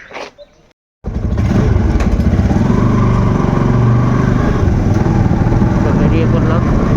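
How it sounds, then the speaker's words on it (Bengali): After a brief pause, a motorbike starts up and rides off on a morning errand to fetch milk, its engine a loud, steady, close rumble that continues to the end. "তো বেরিয়ে পড়লাম বাইক নিয়ে দুধ আনার জন্য।"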